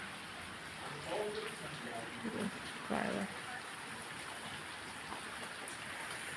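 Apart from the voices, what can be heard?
heavy rain falling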